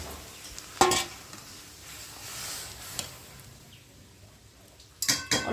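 Boiled dal is poured onto fried onion and garlic in a pan, giving a soft hiss and sizzle with a few sharp spoon clatters near the start and again at the end.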